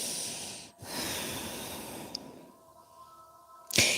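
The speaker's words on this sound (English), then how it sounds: "Inhale and exhale through your nose." Nasal breathing during a yoga session, a steady close airy hiss of air moving in and out through the nose, with a brief gap and a sharper sniff near the end, no voices present.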